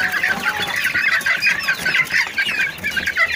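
Young roosters in a poultry shed keep up a dense, busy clucking, many birds overlapping continuously and close by, loud and without any talk.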